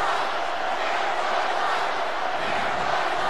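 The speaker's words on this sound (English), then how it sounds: "The crowd still saying that David Day sucks" Wrestling crowd at a UWO Melee show filling an arena with a steady, dense roar of chanting and shouting voices, continuous and loud throughout, with no single voice standing out.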